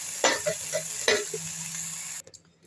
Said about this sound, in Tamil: இந்த கொத்தமல்லியும் புதினாவும் இவ்வளோ லேசாக ஒரே ஒரு வதக்கு